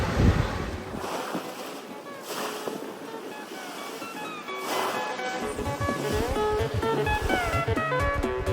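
Ocean waves wash steadily along a warm Curacao beach, with surf and wind noise rising and falling over a constant broadband rush, fairly close and alone with no talking.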